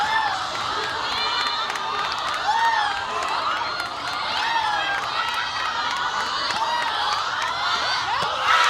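A baseball crowd at an 18U national championship game cheers, whistles and shouts at the players, a dense, continuous roar of many young voices with scattered clapping.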